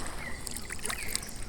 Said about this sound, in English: now I'm paddling on the right side, the left side.